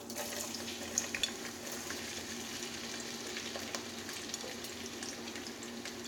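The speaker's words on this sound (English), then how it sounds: "we're gonna go ahead and put the onions in" Onions frying in oil for an okra stew make a steady, moderate sizzle that runs without break, with a few small clinks and pops near the start.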